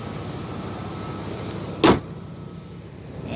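A 1998 Ford Expedition engine gives a low, steady hum with faint regular ticking, and a single sharp thump cuts in near the middle.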